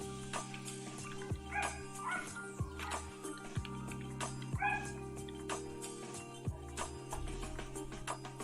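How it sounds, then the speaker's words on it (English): A dog barks repeatedly in short yips and bow-wows, fairly near, over a steady background hum with a person's voice faintly present. "Dog barking at the mailman."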